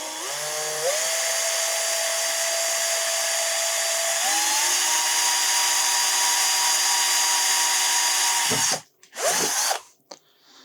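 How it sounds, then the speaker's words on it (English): A power drill with a 3mm bit boring into aluminium whines steadily at high speed for several seconds, its pitch stepping up, then cuts off with a few short bursts and spin-downs at the end. "let's drill into a piece of aluminium and just see what it's supposed to look like"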